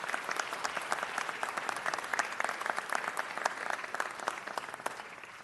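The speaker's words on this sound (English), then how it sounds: "one more big round of applause for the incredible talent we just saw from Sydney Davis, Cynthia Bass, and Wendy Smith" Sustained applause from an audience at a city council meeting honoring three performers, steady dense clapping throughout with no voices over it.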